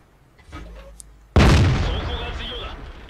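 An STB-1 tank's cannon shot explodes in a video game, a single loud, sharp blast that rings out and slowly decays. A quieter stretch of game noise comes before it.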